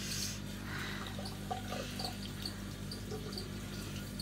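Water runs steadily from a sink tap as hands are washed off, a faint continuous splashing hiss with a few small clinks and drips on top.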